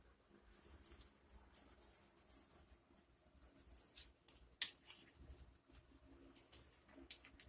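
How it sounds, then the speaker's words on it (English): Scissors cut through craft sticks, producing faint, irregular snips and crisp clicks, with one sharper snap midway, in a quiet room. "I still am going to cut the sticks. So let me cut the sticks."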